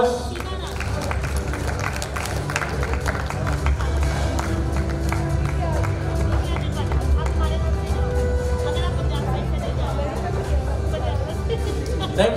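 A crowd applauds at a school felicitation award ceremony, sustained dense clapping filling the hall over a continuous murmur of voices and a steady background hum.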